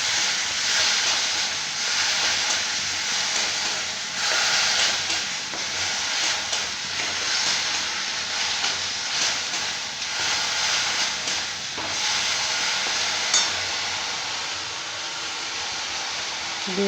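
Ginger, garlic and onion paste sizzles steadily in a pan while being sautéed for a Bengali fish curry, a continuous close hiss with faint stirring and no voices.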